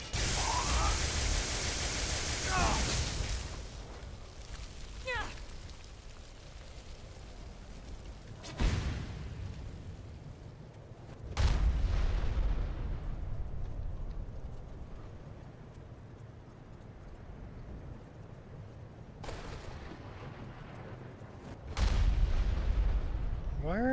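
Heavy explosions boom in a Skyrim battle, arriving as several loud, sudden blasts spaced seconds apart, each dying away into a rumbling, noisy background.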